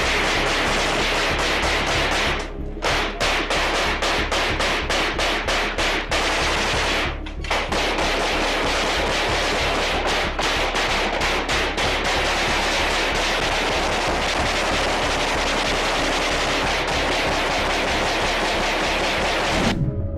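Sustained automatic gunfire from paramilitary forces in archival Srebrenica conflict footage, rapid rhythmic bursts rattling almost nonstop for twenty seconds, loud and close, with two brief pauses and no speech.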